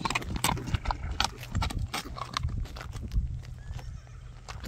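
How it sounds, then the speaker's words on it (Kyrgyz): A horse fitted with shoes on all four hooves walks close by, its hooves clip-clopping in an uneven rhythm, with a few snorts and occasional whinnies mixed in. "Жылкыны көрдүңөр достор."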